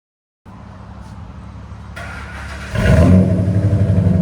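A 2000 Ford Excursion's 5.4L V8 with a Flowmaster Super 10 exhaust starts and idles with a deep steady rumble, then a rev swells louder and holds near the microphone, with no talking.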